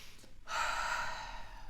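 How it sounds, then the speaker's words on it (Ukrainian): A person takes a deep breath in and then lets it out in a long, steady, close exhale during a relaxation exercise. "зробити вдих, видих"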